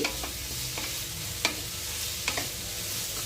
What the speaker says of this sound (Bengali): এবার ভালোভাবে সব উপকরণগুলো ভেজে নিচ্ছি